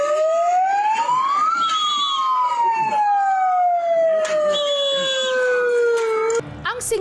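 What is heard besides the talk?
passing ambulance sirens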